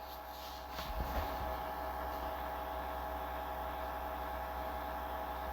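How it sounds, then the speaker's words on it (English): Freight train cars rolling downhill on rails, a steady low rumble with metallic grinding and a brief clatter of knocks near the start, continuous and fairly loud throughout. "Then the train car started to roll down the hill."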